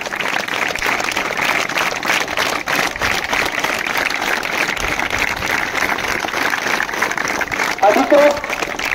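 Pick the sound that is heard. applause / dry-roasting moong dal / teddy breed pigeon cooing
applause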